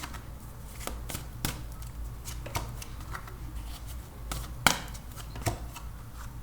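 Tarot cards being shuffled and drawn for a reading, a run of soft, papery riffles and flicks with a few sharper slaps, close and fairly quiet, with no talk.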